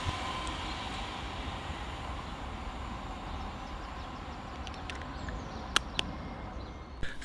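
A ScotRail Class 385 electric train pulls into Paisley Gilmour Street station with a steady low rumble and broadband wheel noise, and a few sharp clicks and squeals near the end.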